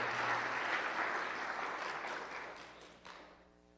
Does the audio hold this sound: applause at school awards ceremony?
yes